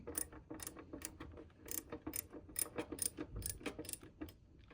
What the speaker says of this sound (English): Let's get this one tightened up.